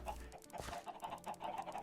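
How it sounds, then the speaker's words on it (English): Chickens in Minecraft clucking in short, repeated bursts at moderate distance, faint and steady, with no talk. "So now the chickens are everywhere."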